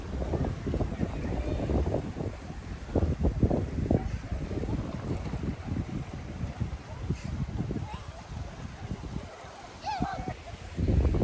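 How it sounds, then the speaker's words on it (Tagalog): Strong wind buffets the microphone outdoors on a leisurely seaside outing, a loud continuous rumble with gusty low thumps, and a few faint voices in the background. "Ang lakas ng hangin"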